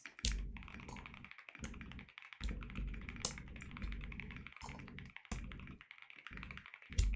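Fast, uneven bursts of keystrokes clatter up close on a Drunk Deer A75 keyboard fitted with foam and lubed stabilizers, each press giving a muted, deep thock with short pauses between runs.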